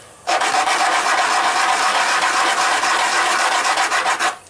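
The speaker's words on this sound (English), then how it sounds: "A little sand on the sandpaper to remove the outside burrs there." Sandpaper rubbing over a handmade metal ring to knock off outside burrs, a steady close-up rasp that runs unbroken and loud for about four seconds with a faint pulsing rhythm.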